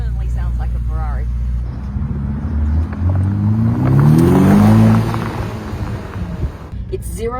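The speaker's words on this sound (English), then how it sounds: "Definitely sounds like a Ferrari." A hybrid supercar with a Ferrari-like engine revs hard, its pitch climbing and peaking about midway before easing off; the engine is loud and close, with faint voices at the start and end.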